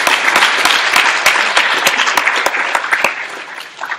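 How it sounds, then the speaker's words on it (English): Audience applause at a Drupal 8 conference talk: dense, steady clapping from a full room that holds loud for about four seconds before thinning slightly at the end, with no voice over it. "I'd like to take a moment to give a huge round of applause."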